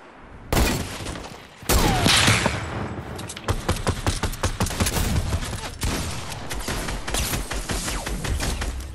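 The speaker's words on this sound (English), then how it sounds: "I have two people shooting at me" Rapid bursts of video game gunfire in a three-way shooter match, dense automatic shots crackling back to back for several seconds, loud and close with no pauses.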